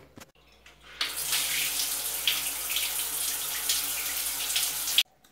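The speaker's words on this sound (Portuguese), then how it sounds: "Primeiro eu vou lavar meu cabelo e aí eu mostro pra vocês como que eu vou fazer." Water runs steadily from a tap over hair being washed in a sink or shower for about four seconds, a continuous close hiss that starts and stops abruptly, with no voices.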